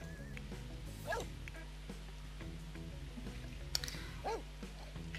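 Dog barking in The Sims 4 video game during a walk, a few yips and short barks scattered over steady background game music, moderately loud and close.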